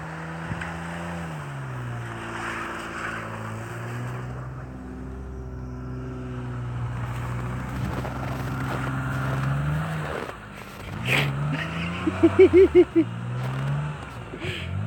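A Nissan street truck revs its engine as it takes a running start and struggles for traction, the engine climbing and falling in pitch, then a burst of sharper revs and a few rapid pulses near the end.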